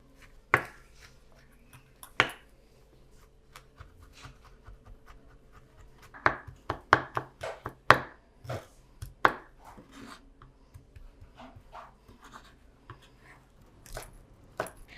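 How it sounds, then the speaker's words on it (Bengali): Knife chopping four garlic cloves on a board: sharp, close taps, widely spaced at first and then in quicker uneven runs, with soft rubbing between the cuts. "এখানে আমি 4 কোয়া রসুন কেটে নেব এখন।"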